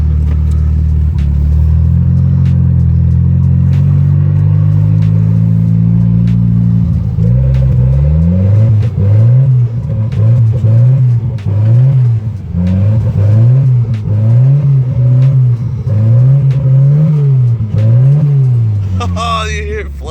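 Big turbocharged Volvo engine revving hard in snow, a loud rising roar that settles into a rhythmic pulsing surge with repeated fluttering wobbles, close and continuous with a voice briefly audible.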